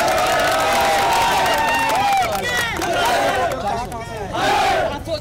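A large, dense crowd gathers at Mumbai airport to welcome Anant Ambani and Radhika Merchant, with loud sustained shouting, cheering and chanting that swells and dips across the whole stretch.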